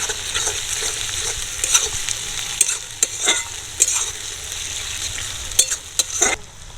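A spoon works through sauces and half a teaspoon of vinegar in a pan for veg Manchurian, with repeated scraping strokes and clinks over a steady close sizzle and no talking.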